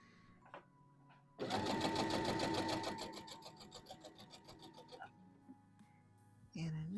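A sewing machine stitches fabric for a Vogue V2000 wrap dress in a close, loud, rapid run of needle strokes that slows and fades after a few seconds, with brief quiet gaps and a voice starting at the end.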